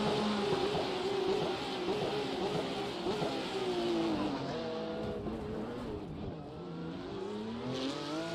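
A race car in the iRacing video game locks its front tires and slides, a steady engine drone and tire scrub carrying on for several seconds with shifting pitch, moderately loud and without voices.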